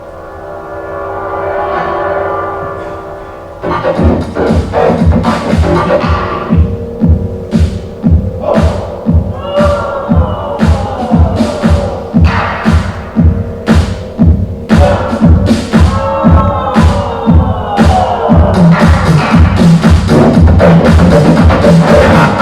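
Stockno, an experimental electronic piece by Graham Duff: a low droning hum gives way to a loud, relentless throbbing pulse with warbling, siren-like tones sweeping over it, steady and alone.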